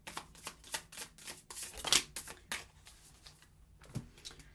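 A deck of tarot cards is shuffled by hand, a run of quick papery riffles and slaps with brief pauses between bursts, close and fairly quiet with no talking.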